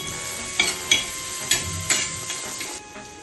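Chopped onion frying in oil for an egg tikhari gravy, a bright sizzle punctuated by a few sharp scrapes of a spatula in the pan.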